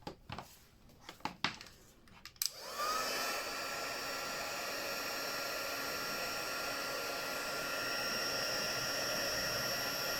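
A heat gun blows a steady, loud airy roar across heat-embossing powder on papercraft pieces; it starts abruptly after a few light handling taps and then runs on continuously without a break.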